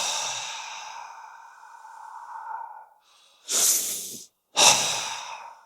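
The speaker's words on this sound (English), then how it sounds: "It's probably better to just take slow, really deep breaths and full exhales" Slow, deep breathing in a desert setting during endurance training: a long drawn inhale fading out, then two forceful, breathy exhales, each separated by a short silence, close and clear.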